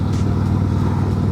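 Stock exhaust on a 2024 Harley-Davidson Road Glide, with catalytic converter and baffles, rumbles at a steady, loud, close drone while the motorcycle is being ridden.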